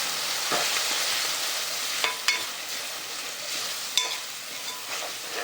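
A spoon stirs chili powder and other spices into arad dal cooking in a pot, making a soft continuous sizzle with a few sharp scraping clicks against the pan, fairly quiet and with no talking.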